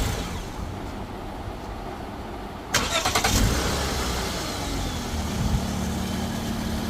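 A Lexus GS300 engine cranks with a brief burst of starter noise, catches and settles into a steady idle, heard close and alone with no talk.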